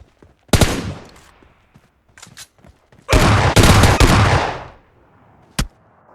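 Gunfire from a PUBG Lite firefight pitting an S12K shotgun against an M416 rifle: a loud single blast, a few scattered lighter shots, then a dense sustained burst of rapid fire for over a second, ending with one sharp late shot.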